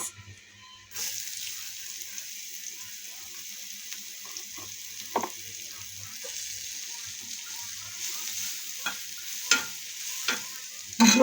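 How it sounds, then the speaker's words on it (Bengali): Sliced onion frying with garlic in a pan for a dried-fish mash, a soft steady sizzle with occasional clinks and scrapes of a spoon stirring, fairly quiet and without talk. "হালকা হালকা করে একটু ভাজি করে নেবো, যাতে একটু নরম হয়ে যায় আর কি।"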